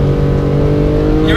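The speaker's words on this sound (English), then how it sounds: "Oh man, listen to that engine." A Porsche race car engine drones loudly and steadily at high revs, up to 8,500 RPM, close by at Yas Marina circuit, while a person talks over it.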